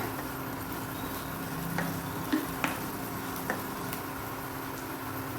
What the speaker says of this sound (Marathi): गॅसची फ्लेम मी आता हायवर करते आणि आलं लसूण क्रश देखील कांद्यासोबतच व्यवस्थित शिजवून घेऊया